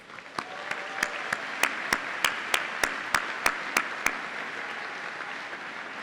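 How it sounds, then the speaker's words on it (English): A commencement audience applauds for the online viewers: a steady wash of many hands clapping, with sharper individual claps standing out at a regular pace for about six seconds. "Let's take a minute to applaud those who are watching from around the world."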